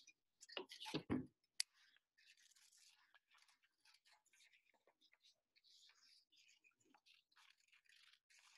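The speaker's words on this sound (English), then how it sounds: "So I'm gonna cut these out." Paper being cut with scissors during a classroom-style lesson, a loud close snip burst up front followed by a sharp click, then a long run of soft, quick snipping and rustling at low level.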